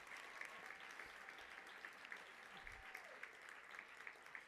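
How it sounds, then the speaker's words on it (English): Applause from an audience at a professional awards ceremony and graduation, a lively, steady clatter of many hands with some sharper individual claps, heard quietly and at a distance under faint crowd murmur. "we all deserve to give this wonderful, amazing man a big, big, big round of applause"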